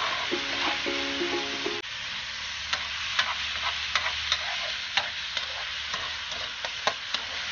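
June bug larvae stir-frying in oil in a pan, a continuous sizzle punctuated by repeated sharp clicks and scrapes of a spatula, close and fairly loud, with a brief tonal hum at the start.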